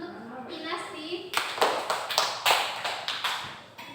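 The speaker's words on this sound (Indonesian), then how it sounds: "Tepuk tangan untuk Pinasti." Classmates break into clapping for a student after a physics lesson answer, a run of sharp, fairly close hand claps starting after an opening stretch of a teacher's voice and continuing in uneven bursts.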